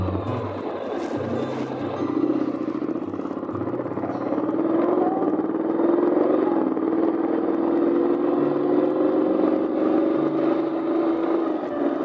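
A 2025 Honda X-ADV motorcycle engine with CVT, revved by throttle blips, rising and holding at a steady hum over about twelve seconds; close and fairly loud, with no talk.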